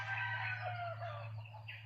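Chickens cluck and a rooster crows in the distance, faint, with birds, over a steady low hum.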